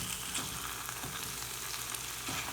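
Barbecue seitan fries in thick, sticky sauce in a pan, giving a steady, close crackling sizzle with a few faint stirring scrapes and no voices.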